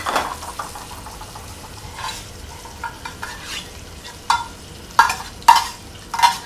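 Guanciale sizzles softly in a pan as its fat renders, a low steady frying hiss broken by occasional stirring scrapes and sharp louder pops, with no voices.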